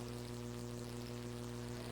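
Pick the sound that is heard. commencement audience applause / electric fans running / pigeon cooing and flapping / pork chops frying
electric fans running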